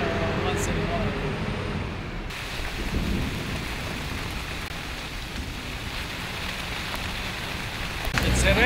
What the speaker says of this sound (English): It's a rainy day today, but that's the way it is.